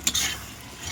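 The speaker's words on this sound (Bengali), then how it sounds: "এবার দিয়ে একসাথে মিশিয়ে ভালো করে এটাকে কষাতে হবে।" Chili paste, turmeric and salt are stirred into meat in a hot pan, giving a close scraping swish over a steady sizzle, with a sharper scrape at the start.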